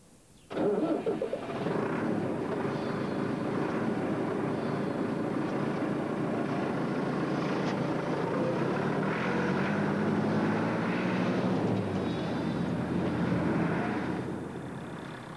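A farm tractor engine catches and starts, then runs at a steady, loud, rumbling idle close by, holding a constant drone with slight shifts in pitch until easing off near the end.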